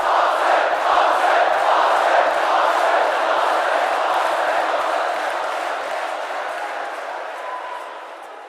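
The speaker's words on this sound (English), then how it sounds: "And the crowd goes wild!" A crowd roars and cheers loudly in a sustained wash of voices, holding strong for several seconds before slowly tapering off.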